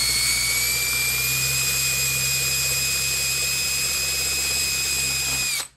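A power tool whines at a high, steady pitch with strong tonal harmonics while grinding down an oversized Ronstan plug for a tube, running continuously and loud before cutting off abruptly at the end.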